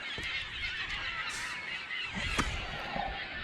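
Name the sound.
seagulls calling while diving at fishing bait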